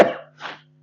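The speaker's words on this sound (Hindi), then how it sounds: "क्या हो गया, एकदम से खांसी सी हो गई यार" A teacher lets out two quick coughs during a class 11 physics lecture, a sharp first burst followed by a softer second one, close and clear in an otherwise quiet room.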